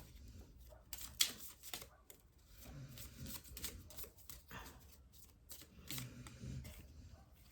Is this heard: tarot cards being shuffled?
yes